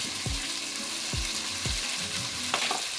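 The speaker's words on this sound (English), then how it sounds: "I'm just going to give it a quick stir" Masala spices and turmeric fry in hot oil in a pan while cooking a mutton curry, giving a steady close sizzle broken by three or four quick metallic spoon scrapes during stirring, with no talk.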